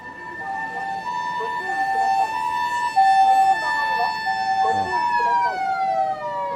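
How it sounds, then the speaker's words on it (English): A Japanese ambulance siren wails in a steady two-tone pattern, loud and fairly close, with faint talking and road noise underneath. "ambulance or kyukyusha in Japanese."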